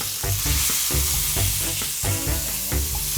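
A beef burger patty sizzles on a hot grill with a steady, loud, close frying crackle and a few brief pulses of louder spitting, with no voices.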